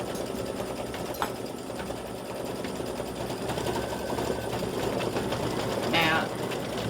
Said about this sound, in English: Color stop 12 is going to stitch her little shoes.